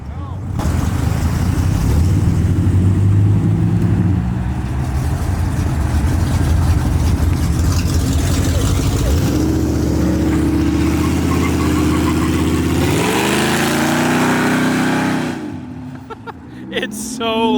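Loud, modified cars roar away from a Dallas car show, including a Hellcat and a Cadillac CT5-V, engines revving and rumbling continuously with rising acceleration sweeps near the end while people talk over them.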